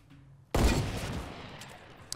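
A submachine gun in Fortnite opens fire after a short quiet moment, a loud, continuous rapid burst that holds for well over a second.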